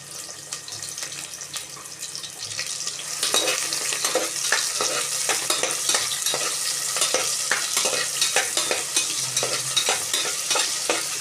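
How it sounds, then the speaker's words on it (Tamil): Large onions sautéing in sesame oil in a pan for goat thonjal curry, a steady broadband sizzle with a run of sharp scraping stir strokes, close and fairly loud, no talking. "பெரிய வெங்காயத்தை போட்டு வதக்கும்."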